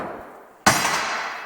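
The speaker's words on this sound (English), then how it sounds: "we could just start hammering this down" A hammer strikes a sheet-metal flange held on a dolly, giving one sharp, loud metallic blow close by, followed by a ringing, lingering decay.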